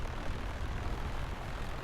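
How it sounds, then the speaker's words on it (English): Piper Comanche light propeller airplane droning steadily in flight, a continuous low engine hum heard from inside the aircraft with no pauses or talk. "Plane sounds amazing, you know."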